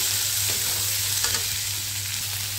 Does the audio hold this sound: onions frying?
yes